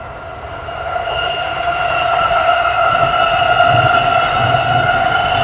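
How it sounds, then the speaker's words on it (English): Amtrak Keystone train 649 rolls past a 1915-built tower amid SEPTA commuter traffic, a loud, steady rumble of wheels on rail with sustained high tonal whine that swells as it nears. "train 649 slices through the SEPTA commuter rush"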